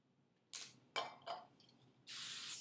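Hairspray is sprayed onto teased hair up close: three short hissing bursts, then a longer sustained spray at the end, with no talking.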